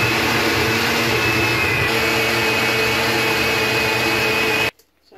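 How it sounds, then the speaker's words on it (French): A Moulinex blender whirs at full power, blending fresh corn and hot pepper with water in a home kitchen. The motor hum is loud and continuous for about five seconds and then cuts off abruptly, leaving near silence. "I'm adding some water to help the mixer."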